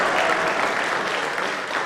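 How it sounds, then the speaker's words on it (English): Applause from a church synod assembly, a dense, steady wash of many hands clapping at once, loud and sustained from start to finish with no talk over it. "We'll give them all a round of applause in a moment."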